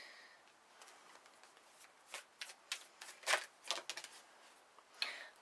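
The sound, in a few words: shuffling tarot cards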